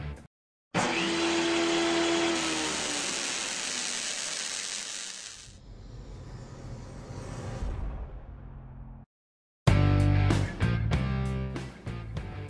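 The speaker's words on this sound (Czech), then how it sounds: "Dneska tady mám makyťáskou akumulátorovou sekačku" A Makita DLM380Z cordless battery lawn mower whirs with a steady, loud electric motor drone for several seconds, then gives way to a lower running sound and a burst of other sharp noises.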